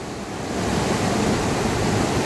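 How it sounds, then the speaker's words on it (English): The Lahardy Rapids on the Yellowstone River rush as a dense, continuous roar of churning water, close and loud for a couple of seconds. "This is the Lahardy Rapids on the Yellowstone River."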